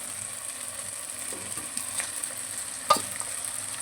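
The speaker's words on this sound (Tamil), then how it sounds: "இதை நம்ம எண்ணெயிலே ஒரு 5 மினிட்ஸுக்கு நல்லா வதக்கிக்கலாம்" Squid pieces frying in oil alongside softened tomato, stirred now and then; a steady close sizzle with soft scraping and one sharp utensil knock near the end.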